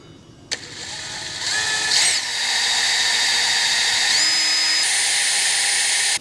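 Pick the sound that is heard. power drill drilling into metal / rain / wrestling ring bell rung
power drill drilling into metal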